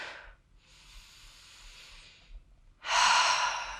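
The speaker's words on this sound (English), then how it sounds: "Now just take a full breath in and out." A single deep breath during a core strength workout: a soft airy inhale, a pause, then a louder, fuller exhale, heard close and alone.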